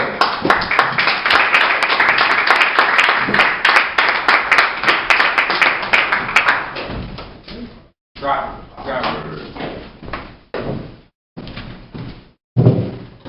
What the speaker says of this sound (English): Round of applause for Omar Dyer.